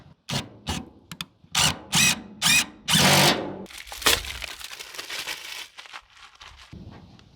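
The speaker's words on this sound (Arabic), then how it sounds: "راح أسكرهم في براغي سلف سيل اللي بيجي معاهم جلدة" A power drill drives self-tapping screws with rubber washers into a steel shipping container in several short, loud bursts, followed by a longer run and some clattering handling noise nearby.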